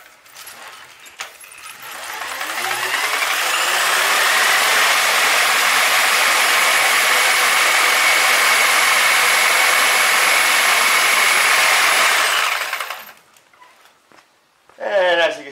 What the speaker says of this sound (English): Okay, let's power up this hedge trimmer.